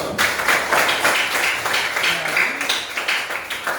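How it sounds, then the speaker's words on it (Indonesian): A classroom group in a Christian religious education lesson claps together in steady, sustained applause, a dense wash of hand claps at moderate volume. "tepuk tangan dulu"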